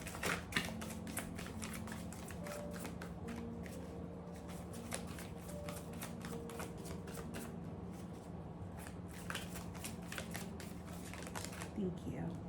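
Tarot cards being shuffled over and over, quick papery riffles and soft slaps in an uneven rhythm, close by and fairly quiet, with a faint hum underneath.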